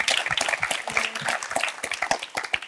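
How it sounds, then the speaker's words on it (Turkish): Audience applause at a Turkish talk show, a fairly close, uneven patter of individual claps from a modest group, with distinct hand strikes standing out. "bir alkış"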